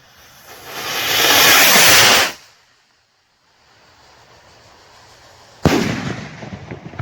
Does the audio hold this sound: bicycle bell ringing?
no